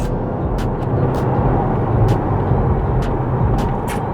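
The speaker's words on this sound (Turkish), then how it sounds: "Mesela şu anda 50'de gidiyoruz. Dip gaz yaptım." Volkswagen CC sedan under full throttle from about 50 km/h, a steady loud rush of engine and road noise inside the cabin, continuous with no speech.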